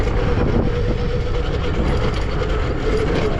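AdmitJet Armor electric dirt bike at full throttle in first gear: a loud, steady, close-up whine and rumble of motor and drivetrain, with continuous wind and road noise and no talking.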